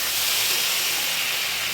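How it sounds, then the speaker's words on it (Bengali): Spice paste frying in oil in a kadai as the oil begins to separate, a steady loud hissing sizzle close by with no breaks or voices. "এখন কড়াই থেকে তেল ছাড়তে শুরু করেছে।"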